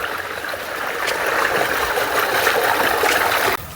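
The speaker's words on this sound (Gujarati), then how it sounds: "જો પાણી તો આવે ગયું" Water pumped by an electric motor pours into a farm storage tank for cattle, making a steady rushing, gurgling flow close by that cuts off near the end.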